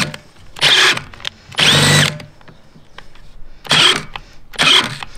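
A cordless 18-volt drill in a garage: four loud, whirring bursts of about half a second to a second each, separated by quieter gaps, close by.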